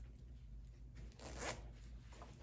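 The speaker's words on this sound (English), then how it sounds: "I'm going to zip it up." A skirt zipper being zipped up during sewing, one quiet continuous zip that rises to a brief peak midway and then trails off, close and alone without voices.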